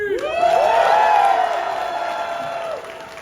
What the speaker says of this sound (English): One more fantastic round of applause.